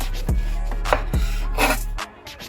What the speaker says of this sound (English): we're simply literally just going to go straight up and just slice our peaches